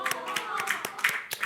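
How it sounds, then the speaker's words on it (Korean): Congregation in a church service clapping together in a steady rhythmic beat of distinct claps, fairly close, with light talk mixed in underneath. "박수 한번 주세요."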